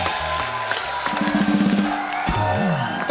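Studio audience on a comedy talk show clapping and cheering with whoops, a loud, continuous crowd roar with music underneath.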